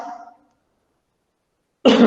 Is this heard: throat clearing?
yes